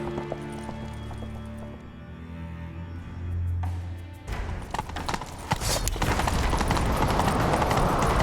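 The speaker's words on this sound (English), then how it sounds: "Grab a horse, we'll chase him down." Hooves pound in a fast, steady gallop that grows louder, after a quieter stretch of low ambient tones, in the video game The Witcher 3.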